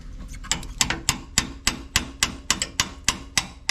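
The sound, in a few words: gently tapping Isuzu NPR A/C condenser part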